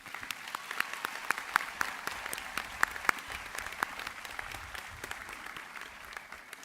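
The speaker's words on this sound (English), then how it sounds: "please applaud and show your appreciation to our outstanding faculty" Commencement ceremony crowd applauds faculty, staff and administrators: scattered, somewhat distant claps that come as sharp individual hits over a soft wash of clapping, fairly faint throughout.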